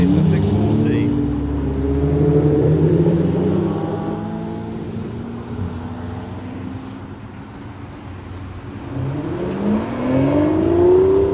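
Lamborghini LP640 supercar arriving at a supercar event, its engine revving in rising and falling sweeps, fairly near, with people talking over it.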